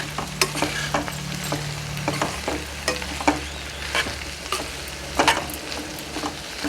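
Tomatoes being stirred into a frying curry of broad beans and fenugreek leaves in a pan, a steady sizzle broken by repeated scraping and clinking strokes, close and clear with no talk.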